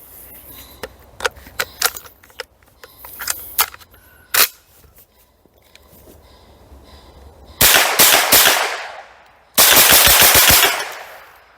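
A genuine HK MP5 fires sharp single and paired shots at first, then two loud, rapid full-auto bursts that each run through a magazine without a stoppage, ringing out clearly with no talk.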